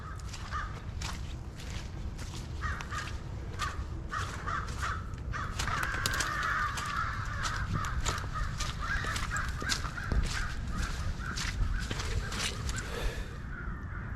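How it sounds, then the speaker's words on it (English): Crows caw repeatedly in woodland where a buck bedding area is searched for shed antlers, with harsh calls overlapping in an irregular, continuous chorus at moderate distance and faint rustling footsteps underneath. "These crows are going crazy over here"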